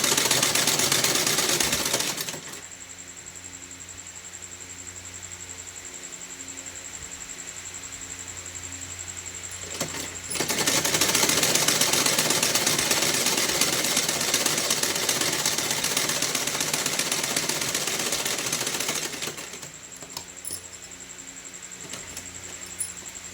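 A sewing machine stitches a straight fabric strip for a small Laddu Gopal doll dress, running in two long, steady mechanical whirring stretches with quieter gaps between them.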